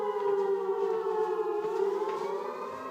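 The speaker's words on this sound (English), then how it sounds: "what you can hear here is the air raid siren, and this is the sign for an attack." An air raid siren signalling an attack wails steadily and loudly, holding a sustained harmonic tone that drifts slightly in pitch and plays alone without voices.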